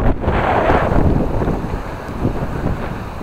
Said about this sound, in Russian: Видимо, холодный ветер с севера задувает.